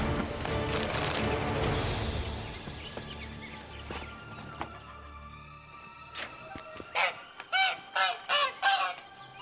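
A goose-like fowl honks in The Witcher 3 open-world game: a burst of rhythmic honks near the end follows earlier squawks over ambient game sounds.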